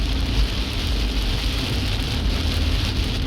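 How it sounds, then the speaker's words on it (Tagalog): Heavy rain pours onto a deeply flooded road during a strong windy storm, a loud, dense, continuous hiss of drops that stays steady throughout with no voices. "Malabo na, no? Kasi gawa ng malakas ang ulan."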